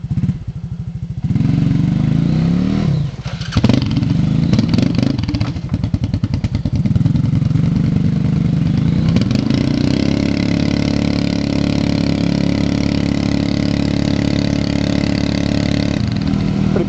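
A Yamaha Grizzly 660 ATV engine runs in deep mud, revving loudly with a steady drone that rises and falls as the rider pushes on, sounding close and continuous throughout.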